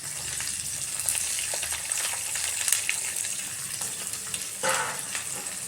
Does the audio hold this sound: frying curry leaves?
yes